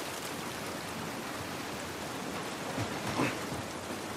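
Rain falls steadily in The Last of Us Part II, a soft continuous hiss of drops on surfaces with a slight swell of heavier patter near the end, no voices.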